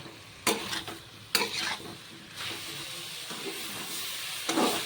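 Dried shrimp sizzling and hissing in a hot pan, with several sharp scraping stirs of a spatula breaking through the steady frying noise.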